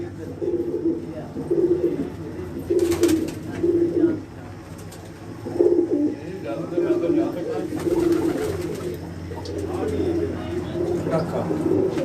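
Soft, repeated cooing of Lakha pigeons in low bursts, several birds calling over a steady outdoor hum with a few sharper noises in between, on a rooftop.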